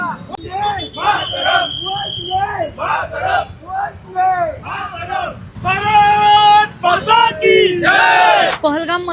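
Congress party workers celebrate at Goodluck Chowk in Pune, a loud crowd chanting and shouting slogans in rhythmic bursts, voices rising into sustained group cries with cheering throughout.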